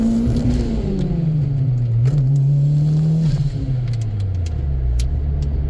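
A Toyota Celica GT4 with a swapped 3S-GTE turbo engine revs steadily up and down close by, a loud continuous rumble whose pitch rises, dips and climbs again throughout.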